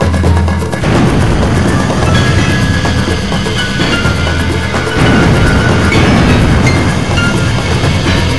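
A missile launching in the Sonic Adventure video game, a loud, sustained roaring rumble with heavy booming low end that carries unbroken for several seconds.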